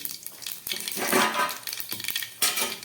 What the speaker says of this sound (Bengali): এই মাছ ভাজার তেলের মধ্যে আমি দিয়েছি একটু কালো জিরে